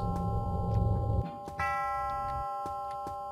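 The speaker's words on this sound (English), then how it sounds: "I got a chime." Video game clock chime in the horror RPG Faust's Alptraum: bright sustained chime tones ring out over a low rumble, then a second, fuller bell-like chime sounds and slowly decays with faint ticking.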